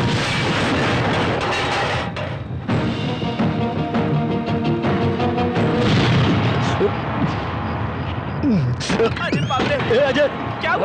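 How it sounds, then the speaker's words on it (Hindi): A bomb blast at a police station: a loud, continuous roar of blasts and rumbling fills the clip, with shouting voices rising over the din of the explosion. "Police station blast bomb."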